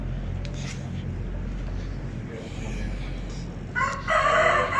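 A rooster crows on a fancy poultry farm, a loud crow rising near the end over steady farm background noise and low hum.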